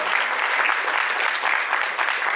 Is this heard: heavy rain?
no